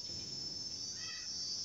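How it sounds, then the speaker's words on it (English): Crickets and other insects chirp steadily in a quiet village compound, a continuous high trill, fairly faint, with no talking. "You can even hear the sound of those insects"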